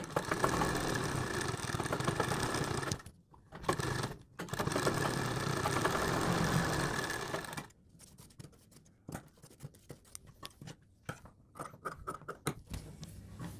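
Sewing machine stitching a folded suit neck with buckram, running in two close bursts of steady whirring, followed by quieter handling clicks and fabric rustle.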